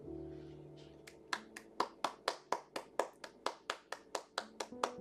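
Hands clapping in a steady, evenly spaced rhythm of roughly fifteen claps, sharp and close, starting a little over a second in after a brief low murmur, with no talk over the claps.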